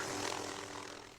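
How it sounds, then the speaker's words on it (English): A helicopter landing gives a faint, steady engine and rotor drone throughout a brief moment, with no clear beat from the blades. "Search team just landed a helicopter."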